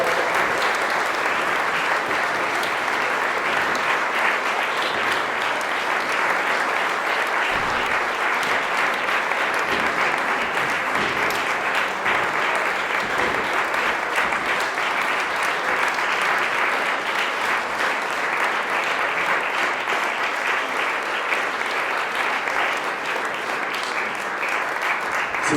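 A concert audience claps for the performers at a spring singing event, steady and full applause holding for the whole stretch with no break.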